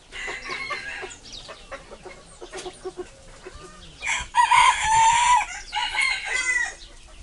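Several chickens cluck and squawk close by, with a rooster-like crow rising midway; the busy, overlapping calls continue throughout with no talking.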